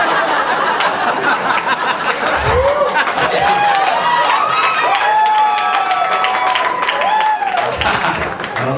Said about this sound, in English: I don't know why y'all cheer for that.